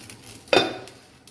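A lid set down on a pan of egg dosa, one sharp metallic clink followed by a short ring and a faint sizzle beneath it.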